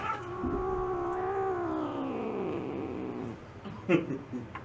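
A person's voice imitates cat sounds, a long, wavering, moaning caterwaul that slowly falls in pitch and then fades, followed by a few brief vocal bursts.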